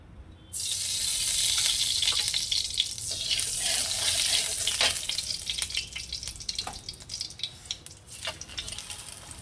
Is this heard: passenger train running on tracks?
no